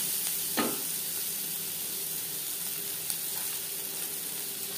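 Onions frying in oil with turmeric, a soft continuous sizzle with a brief stir or scrape near the start, fairly quiet and steady, no voices.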